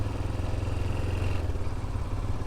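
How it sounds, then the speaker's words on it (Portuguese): A 1988 Yamaha Ténéré 600 motorcycle engine runs on fresh oil, a steady, low pulsing idle thrum that stays even and moderately close for a couple of seconds with no talk over it. "Até o barulho da moto muda"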